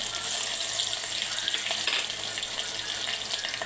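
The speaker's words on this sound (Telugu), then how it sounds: "ఇదిగోండి ఆయిల్ మరిగిపోయింది ఇందులోని శనగపప్పు మినపప్పు అలాగే వెల్లుల్లిపాయలు" Chana dal, urad dal and garlic fry in hot oil, giving a steady, soft crackling sizzle at moderate distance that holds evenly throughout, with no speech.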